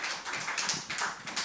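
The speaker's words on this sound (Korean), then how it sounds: "박수 한번 해주세요. 박수." A small audience claps together after a call for applause during a Bible lecture on Jeremiah, a brief burst of quick, fairly soft hand claps with light uneven rhythm.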